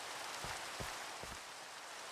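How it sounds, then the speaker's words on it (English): Steady rain falls in a video game as a quiet, even hiss, with a few soft low thumps underneath. "Oh, look, rain!"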